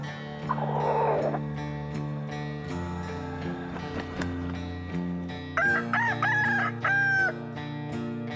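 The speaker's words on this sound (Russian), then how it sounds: "Пришло время дать слово самым многочисленным птицам мира – петухам и курам." A rooster crows loudly and close by, with hens clucking and a steady low hum underneath.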